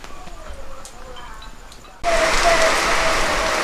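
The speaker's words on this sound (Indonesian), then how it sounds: "Jadi hujannya makin parah nih teman-teman." Outdoor wind and rain, with a soft rushing backdrop that suddenly swells into a loud, dense downpour roar partway through and then holds steady.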